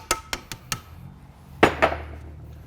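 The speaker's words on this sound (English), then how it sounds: "Take our hammer. Gonna tap this race down a little bit." Four sharp, evenly spaced metal taps from a hammer knocking a bearing race down inside an Eaton Fuller ten-speed truck transmission, followed by two heavier, ringing strikes, all close and with no talking.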